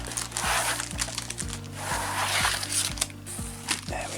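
A Logitech MK270 wireless keyboard is pulled from its plastic carrier, with close, crinkling and crackling plastic in irregular bursts over a steady low background hum.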